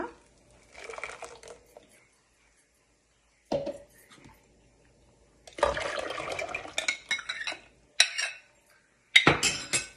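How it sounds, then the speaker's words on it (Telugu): Paste and buttermilk are stirred together in a metal bowl for majjiga pulusu, with spoon clinks and scraping against the dish in short separate bursts. Quiet gaps come between them and nobody speaks. "ఈ గిన్నెలో ఇవన్నీ మిక్స్ చేసేస్తాను"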